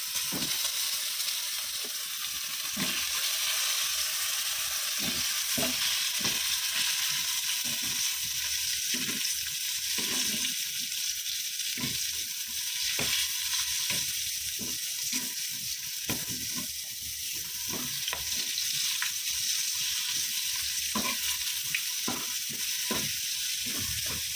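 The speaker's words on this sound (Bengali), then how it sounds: "পটল ভাজাটা বসিয়ে দিই" Pointed gourd pieces fry in a pan with a steady hiss of oil, broken by repeated soft scrapes and taps as they are turned, close and continuous for the whole stretch.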